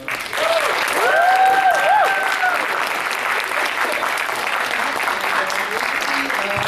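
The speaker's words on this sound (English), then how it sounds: "let's have a round of applause for..." Convention audience breaks into steady, sustained applause that fills the room; a voice is heard briefly over the clapping at the start.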